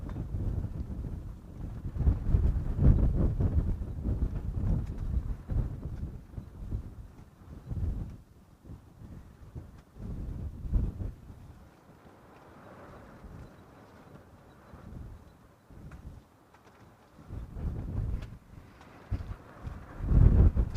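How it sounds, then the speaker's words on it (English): Gusty wind buffets a microphone outdoors in the late afternoon, rising and falling in strong low rumbling bursts with quieter lulls between, close and with no voices. "the wind also picking up as we head into the later afternoon"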